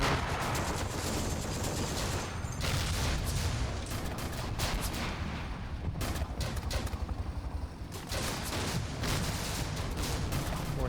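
Gunfire in the war game Combat Mission: Afrika Korps, a dense continuous crackle of rifle and machine-gun bursts with distant booms, loud and sustained throughout.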